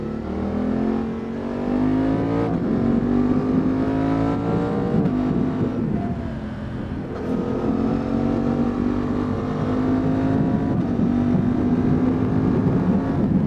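Suzuki V-Strom 800 RE motorcycle engine droning steadily while braking and downshifting with the quick shifter, its pitch dipping briefly midway before settling into a continuous close, loud hum.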